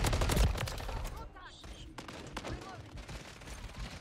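Shotgun fire in the game Modern Warfare 3, with a heavy blast at the start followed by scattered shots and clatter, and someone talking.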